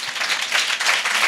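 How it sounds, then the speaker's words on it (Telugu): A church congregation claps for Jesus during a Telugu worship service, a brief burst of dense, steady applause filling the room. "big claps to Jesus"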